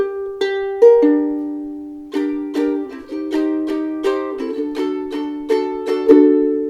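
A ukulele plays the short intro of the Kim Possible theme song, starting with a few separate strums, then settling into a bright, steady down-up strumming pattern, close and alone.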